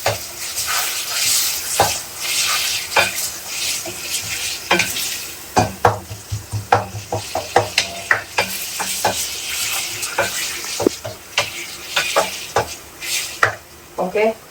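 Curry leaves and chopped tomatoes sauté in a pan, a steady close sizzle broken by frequent sharp scrapes and clicks of a spoon stirring against the metal, with no voices.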